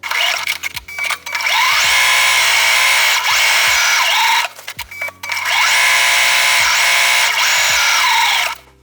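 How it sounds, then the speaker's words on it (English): A sewing machine chain-pieces quilt block seams in two long, loud, close whirring runs with rising and falling pitch, separated by brief pauses and clicks. "I'm sewing it through, butting the next one up, and then cutting the threads in between and getting ready to sew the next one."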